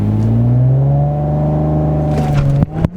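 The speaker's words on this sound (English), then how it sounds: "that launch was absolutely ridiculous" A 2019 Audi RS5 Coupe launches hard with traction control off in manual mode, heard from inside: a loud, steady engine roar climbing through the revs, then sharp breaks as gears shift near the end.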